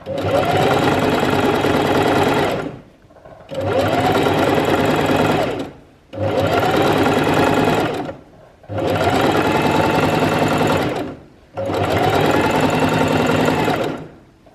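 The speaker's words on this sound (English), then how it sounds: "And then we're going to stitch right to the end." A sewing machine stitches fabric in five long, steady runs of loud whirring motor drive, each separated by a short pause, from close up, including a few stitches and a backstitch down a seam.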